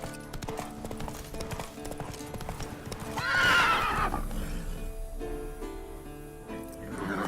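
Horse in a video game trots with steady hoof clip-clops, then lets out a loud, drawn-out neigh midway before the hoofbeats carry on.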